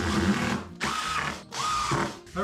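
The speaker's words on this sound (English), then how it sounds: "So I'm going to start to screw this down." A power driver sinks 1 1/4 inch screws into a workbench top. It whirs loudly up close in three bursts, with short pauses between them.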